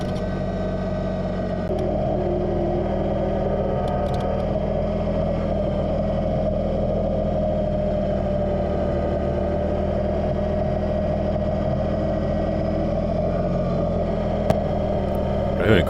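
A Kubota BX2380 compact tractor drives across a lawn during snow pile cleanup, its diesel engine a steady, loud, close drone that holds an even pitch throughout, with a sharp click near the end.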